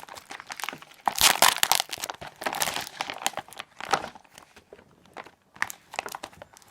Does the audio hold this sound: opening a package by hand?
yes